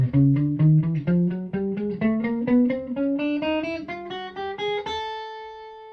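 An electric guitar runs a chromatic scale across all six strings, a steady stream of evenly picked single notes rising in pitch and ending on a ringing sustained note.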